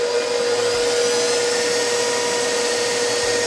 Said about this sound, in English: Turn back on your mixer and beat that until peaks form in the whipping cream.